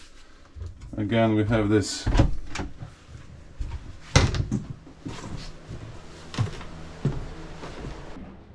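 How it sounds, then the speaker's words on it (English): Cabinet and cupboard doors on board an Excess 11 sailing catamaran are shut one after another, producing a series of close thuds and clicks while a person talks over them. "And then the doors close."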